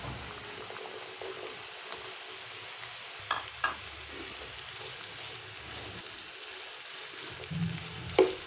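Onions go into a frying pan of potatoes and sizzle with a soft, steady hiss, broken by a few sharp clinks and stirring scrapes of a utensil against the pan.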